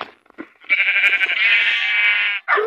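Sheep bleat in the video game Wolf Life 2: one long, loud, wavering bleat close by, with a shorter cry starting at the end and a few soft clicks before it.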